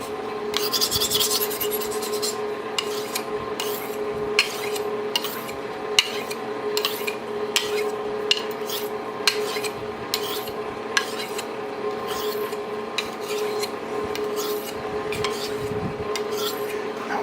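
An old Hickory Ontario butcher's knife is sharpened on small stones, a continuous rasping rub with a steady back-and-forth rhythm of sharp scraping strokes, close and loud throughout.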